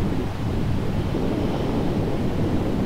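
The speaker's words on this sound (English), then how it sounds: "It was windy, too." Wind buffets a microphone outdoors under a clear sky with trees nearby, a loud, steady low rumble that fills the whole stretch without letup.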